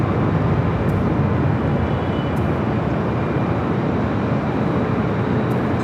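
An American Airlines Airbus A319 arriving at Los Angeles International Airport: a steady, loud broadband jet roar that holds evenly throughout, with no voices.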